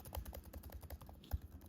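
Typing on the keyboard of an ASUS Zenbook S13 OLED laptop: quiet, soft keystrokes in a steady, rapid rhythm, close up with no voices, and one slightly harder tap near the end.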